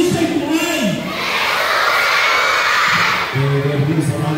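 A youth crowd at a crusade in the Philippines shouts together in a loud, sustained roar, with a single voice leading before and after the group shout.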